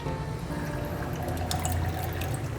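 Drinking water pours and trickles steadily into a container at close range, with no talking over the soft continuous flow.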